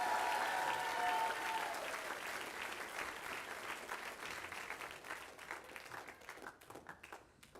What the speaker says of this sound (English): Another round of applause for our Band Booster recipient scholarship.